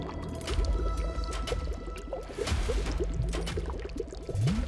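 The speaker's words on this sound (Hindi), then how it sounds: "हमने ध्यान से सुना, ये शायद पानी बहने की आवाज थी।" Water flows through an underground cave passage in Chhindwara, Madhya Pradesh, with a steady splashing, pouring rush and occasional surges and knocks, heard fairly close in an enclosed space.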